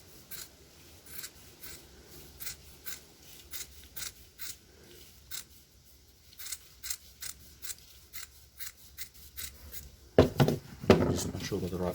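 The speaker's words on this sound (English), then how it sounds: "we'll just cut that there with a nice pair of scissors there." A sharp pair of scissors snips through plastic while broken plastic garden furniture is repaired, giving a steady run of quiet, close, crisp cuts, then louder rustling handling at the end.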